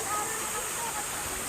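A mountain waterfall in the Philippines roars steadily up close, a broad continuous rush of fresh mountain water with no breaks.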